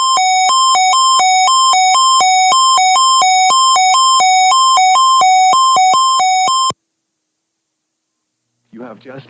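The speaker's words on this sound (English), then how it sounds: "You have just heard a test of the National Weather Service radio warning alarm feature." A National Weather Service radio warning alarm test sounds as a loud, steady electronic tone pulsing in a rapid regular rhythm for several seconds, then stops abruptly, followed by silence and a brief voice at the end.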